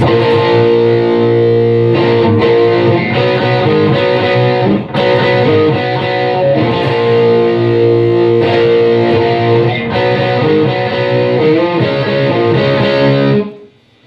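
Loud distorted electric guitar power chords from the pre-chorus of a song, strummed in a driving rhythm, chord changes every bar or so, ringing out and cutting off at the end.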